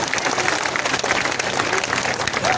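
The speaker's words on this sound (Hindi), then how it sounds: "यहाँ का आदमी ऐसा बजाओ ताली जोर से" Large crowd at an outdoor political rally clapping loudly and continuously, a dense steady wash of applause with a murmur of voices mixed in.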